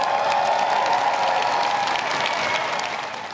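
Sustained applause from a crowd outside Number 10 Downing Street for an arriving new Prime Minister, dense continuous clapping with faint cheers that fades slightly at the end.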